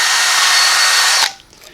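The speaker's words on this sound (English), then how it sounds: "you take your 3/32 drill bit" A power drill with a 3/32 bit drills a small pilot hole, a loud, close, high-pitched whir lasting just over a second before cutting off abruptly.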